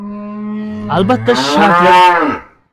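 A single loud, close cow moo, starting low and swelling into a long, drawn-out bellow before fading.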